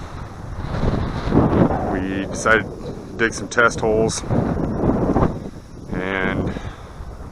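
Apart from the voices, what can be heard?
wind blowing into microphone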